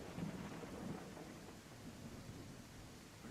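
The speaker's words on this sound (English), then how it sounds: "It's too early for a storm, isn't it? It's been raining all day, bro." A thunderstorm rumbles with steady heavy rain in the game I Am Jesus Christ, low rolling thunder swelling early then easing under continuous close, even downpour hiss.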